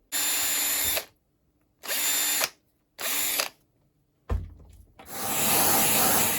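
A power drill clears holes in robot finger sections, giving three short whining bursts separated by pauses, then a clunk and a longer sustained run, close and loud with no talking.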